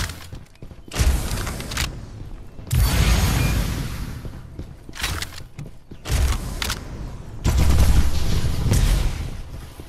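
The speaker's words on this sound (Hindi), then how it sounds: "this is auto fire weapon" Automatic weapon fire in the video game Farlight 84, loud sustained bursts of rapid shots alternating with brief quieter gaps, repeating several times at close range.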